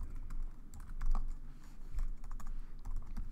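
Uneven typing on a computer keyboard, quick clusters of key clicks with short pauses, close and fairly quiet.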